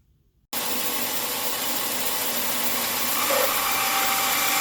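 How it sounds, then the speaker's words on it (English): A bandsaw cuts through inlay wood, sped up five times, starting abruptly after a moment of near silence and then holding as a dense, steady whirring roar that grows slightly louder toward the end, close and continuous. "This is 5 times normal speed, so I'm very careful with the bandsaw."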